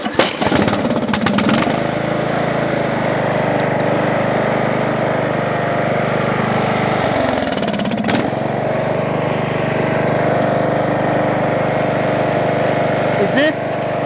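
A Craftsman lawn tractor engine, left sitting for five years, runs at a steady rough idle, loud and close throughout, with a brief pitch dip midway and a mechanical clunk near the end.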